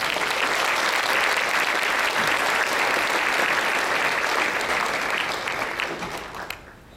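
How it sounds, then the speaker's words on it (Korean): Sustained applause from a large gala audience welcoming a speaker, steady and full for several seconds before tapering off toward the end. "이 박사님을 박수로 환영해 주시기 바랍니다"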